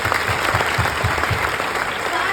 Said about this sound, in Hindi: एक बार जोरदार तालियां उन लोगों के लिए बजाइए